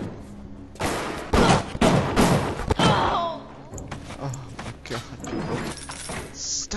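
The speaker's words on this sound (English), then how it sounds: "I hacked it! It's still trying to kill me!" A hacked turret in Bioshock fires bursts of gunshots and thuds, loudest early on. Crashing impacts follow over ongoing game ambience.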